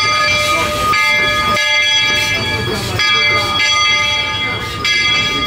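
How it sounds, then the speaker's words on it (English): Walt Disney World Railroad steam train pulling into the Frontierland station at Magic Kingdom, with a steady rumble, sustained whistle-like tones and a ringing bell over crowd chatter and people talking. "And here comes the train."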